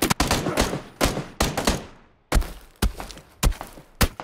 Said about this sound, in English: They keep shooting the ground underneath me